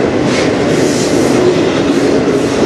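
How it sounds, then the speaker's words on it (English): Short CN freight train rolling past close by on the Strathroy Sub, a loud, steady rumble with rattling wagons and wheel clatter filling the whole stretch. "Looks like it is a pretty short train."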